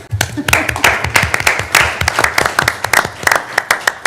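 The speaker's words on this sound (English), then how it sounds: "let us give them a salute by a round of applause" Applause in a meeting room during a public session, close and loud, with individual sharp claps standing out in an uneven rhythm.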